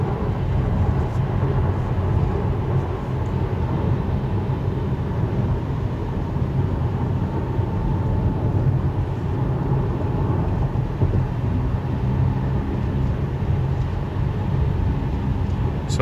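A Tesla steering itself on Navigate on Autopilot along a California freeway at night, its steady broadband road and cabin rumble continuous and fairly loud throughout, with no talk over it.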